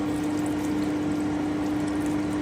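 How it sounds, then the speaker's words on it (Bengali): Water splashes steadily into a pan of vegetables and paneer, a continuous trickling pour with a faint steady hum beneath it, close by and without voices. "এবারে আমি একটুখানি জল দিয়ে দিচ্ছি"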